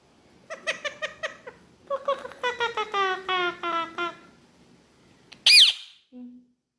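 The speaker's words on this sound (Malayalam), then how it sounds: "പൂച്ച എവിടെ പോയി അമ്മാളു" A cat meows in several drawn-out, wavering cries up close, then lets out a brief high-pitched squeal before falling quiet.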